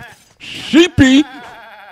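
A sheep in The Legend of Zelda: Breath of the Wild bleats twice in short, loud wavering calls while someone talks over and around them.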